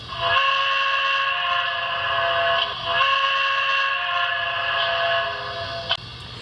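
A Broadway Limited HO scale Pennsylvania streamlined K4s model locomotive sounds its whistle on its second setting, one long steady multi-tone chord held loud and close for about six seconds with a brief dip midway.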